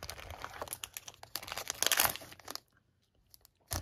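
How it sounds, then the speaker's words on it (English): Japanese One Piece TCG booster pack wrappers crinkle and tear close up in quick, busy bursts, then a short quiet gap and one more rustle. "I'm still struggling as I'm opening these packs"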